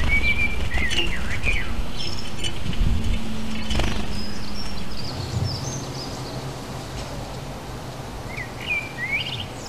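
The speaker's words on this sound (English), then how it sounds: "A young house sparrow has returned to the bowl." A young house sparrow chirps in short, scattered calls over a steady rushing outdoor background, fairly faint and at moderate distance.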